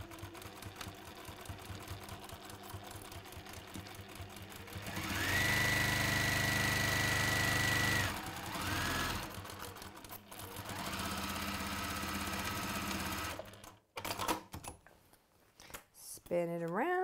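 Sewing machine stitching seams down the sides of a garment in a home sewing session, a steady mechanical run of several seconds that stops and restarts in bursts, with someone talking between runs.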